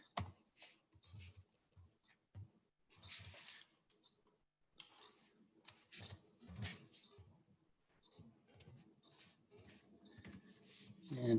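A computer keyboard being tapped to enter a username, quiet and close: irregular clusters of soft plastic key clicks separated by brief pauses, with no talking during the typing.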